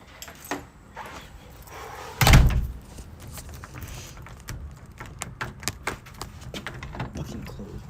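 A squeaky house door swings shut after rain, a loud thudding close near the start of the action followed by scattered clicks, rattles and key jangling nearby, with occasional voices.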